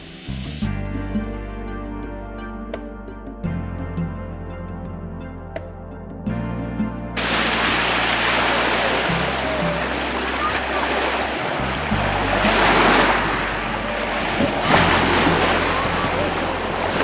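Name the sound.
ocean waves at Van's Beach, Leland, Michigan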